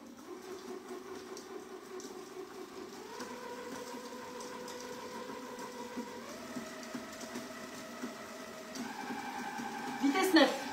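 An All-Clad kitchen robot food processor runs at speed 9, a steady motor whine that climbs in pitch in stepped stages, with a brief louder clatter near the end.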